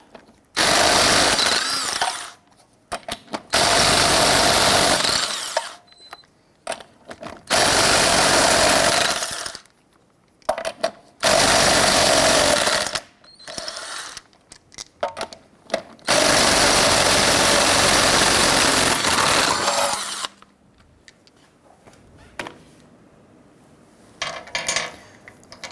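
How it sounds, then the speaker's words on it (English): A power tool on a 19mm socket rattles loosely in repeated long bursts as it loosens and removes the front wheel lug nuts on a 1999-2004 Jeep Grand Cherokee, with short pauses and faint clinks between runs. "loosen and remove the lug nuts."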